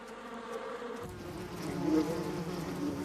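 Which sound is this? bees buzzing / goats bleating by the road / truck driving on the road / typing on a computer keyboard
bees buzzing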